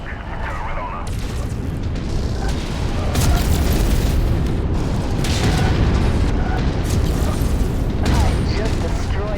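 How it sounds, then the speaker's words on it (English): A mech blows apart in a video game battle set on a lava field, a loud continuous roar of booming blasts and rumbling debris that fills the whole stretch without letting up. "I just destroyed that mech."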